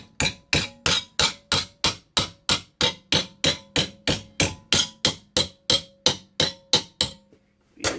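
Repeated hammer blows on sheet metal clamped in a vise while shaping a fender patch panel for a 1965 Pontiac LeMans, about twenty loud, evenly spaced ringing strikes close by with no talking.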